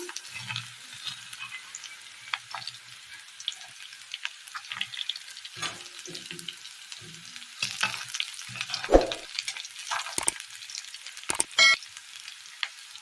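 Shallots sizzling as they fry in oil, with intermittent stirring scrapes and knocks against the pan, fairly quiet and close, no talking.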